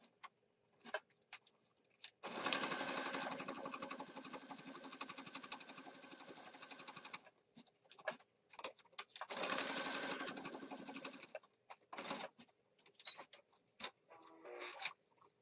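A sewing machine stitches through a mixed media art piece in two long steady runs, with quiet handling clicks and taps between the runs.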